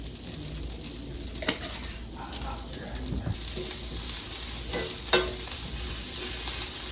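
Seasoned broccoli sizzling on a grill, a continuous crackling hiss with scattered scrapes and taps, rising slightly louder toward the end, close and with no voices.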